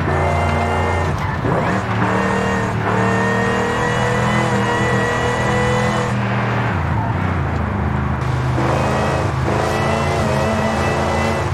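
A car engine roars and revs in the video game Forza Horizon 5, running loud and continuous with gear shifts, tire squeal and skidding across the whole stretch, with no talking.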